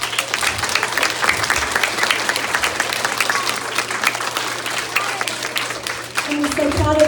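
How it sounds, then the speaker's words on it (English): A school assembly audience applauds, a loud, dense crowd clapping that keeps up steadily and then gives way to a voice starting to speak near the end. "so everybody give a round of applause"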